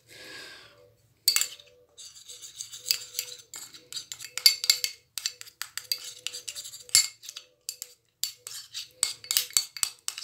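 A spoon clinks and scrapes steadily in a bowl as ground powder is stirred together with rose water, a quick uneven rhythm of close, sharp taps after a brief soft pour at the start.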